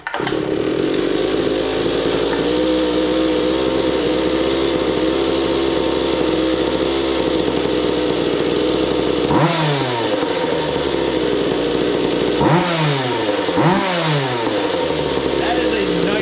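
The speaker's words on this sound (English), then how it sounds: "Let's see if it starts." A small two-stroke Goped Big Foot scooter engine runs at a high buzzing idle, then revs sharply up and down several times, loud and close.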